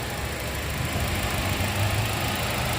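Close to the engine bay of a like-new 2017 Toyota Avanza Veloz 1.5 manual, the engine ticks over at idle in a steady, unbroken drone, with nobody talking.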